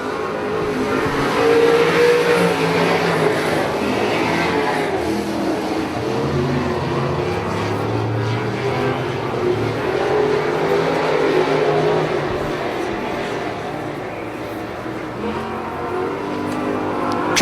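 Sprint cars race around Dixieland Speedway, engines roaring loud and continuous through the turns, a dense, steady drone with rising and falling revs as the pack circles the dirt oval.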